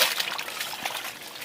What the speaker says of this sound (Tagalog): Lakas ng tubig ano.